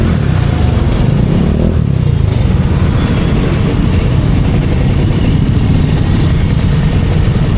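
A big motorcycle engine runs close by, a loud steady low rumble with fast pulsing throughout and no clear rises or drops in revs.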